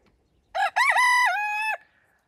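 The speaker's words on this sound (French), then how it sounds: "toutes les poules elles se régalent, nous on peut rester dehors à les admirer" A rooster crows once, loud and close, a long drawn-out call rising then holding steady before cutting off, with quiet surroundings before and after.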